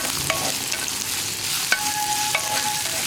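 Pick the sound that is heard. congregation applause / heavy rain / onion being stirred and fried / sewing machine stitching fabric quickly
onion being stirred and fried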